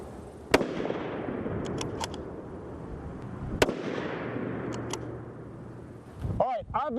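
Unsuppressed bolt-action rifle shots crack loudly outdoors, two sharp reports a few seconds apart, with fainter distant pops and a low vehicle-like hum between them.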